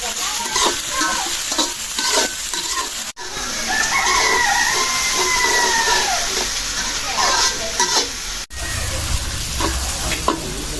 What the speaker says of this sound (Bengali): পেঁয়াজটা ভাজে নিলাম